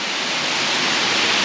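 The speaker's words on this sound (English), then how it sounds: "I want to just stand in the waterfall here" A waterfall at Harvey Dam pours in a steady, loud broadband roar, constant and close with no breaks.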